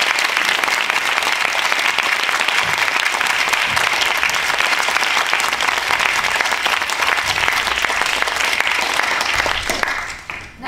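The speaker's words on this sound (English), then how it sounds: "Let's give her a round of applause." Sustained applause from a large audience at a talk in Cambridge, steady and loud for about ten seconds before tapering off at the end.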